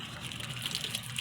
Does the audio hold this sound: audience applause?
no